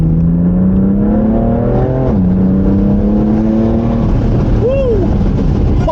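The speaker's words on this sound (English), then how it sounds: "Hear that downshift?" A 2018 BMW M3 F80 with a 3-liter twin-turbo inline six drops a gear with a paddle shift, its loud engine note climbing, then sharply blipping on the downshift and rising again, heard from inside the car.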